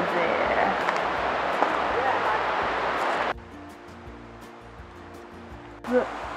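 Steady rushing roar of an Australian waterfall, loud and continuous, then suddenly quieter as a low hum takes over for a few seconds.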